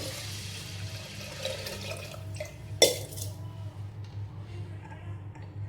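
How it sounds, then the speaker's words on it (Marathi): Water poured into rice in a pressure cooker, a soft running trickle with low hum in the background and one sharp clatter partway through. "भातामध्ये पाणी टाकते"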